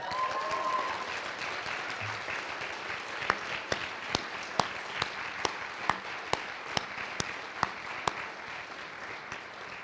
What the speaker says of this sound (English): I think you can make more applause for that than what you just did.